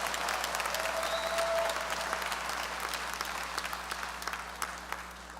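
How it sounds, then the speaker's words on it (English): Sustained audience applause at a medical school white coat ceremony, a dense wash of many hands clapping that stays steady and gradually thins toward the end. "A round of applause for our class of 2028."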